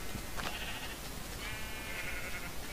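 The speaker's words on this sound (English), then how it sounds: "we're gonna go get the orange sheep now" Two short, faint Minecraft sheep bleats ring out over a steady hiss of background noise, with no voices.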